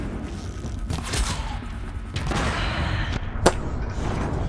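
A single sharp shotgun blast fired by an enemy in the action game Horizon Zero Dawn, standing out briefly against a steady, busy backdrop of combat and ambient noise.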